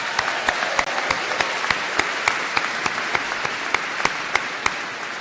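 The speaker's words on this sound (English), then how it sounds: "Join me in extending a round of applause to all of those who supported you on this" Audience applause at a Duke Nicholas School graduation ceremony honoring graduates' families and friends: a large room of steady, dense clapping sustained throughout, with faint regular clicks ticking through it.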